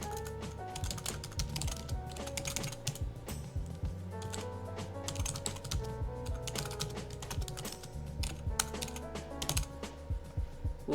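Steady typing on a computer keyboard while entering a map title, a quick irregular run of light clicking keystrokes that continues throughout, close but soft.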